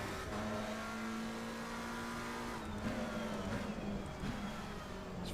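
A Ferrari race car engine drones steadily in a racing video game, its tone sliding up and down as the car runs through gears, with faint tire noise over a continuous, fairly quiet mix.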